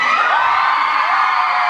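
Concert crowd in Mexico at a showcase: loud, sustained cheering and high-pitched screaming from a packed audience, an unbroken wall of voices throughout.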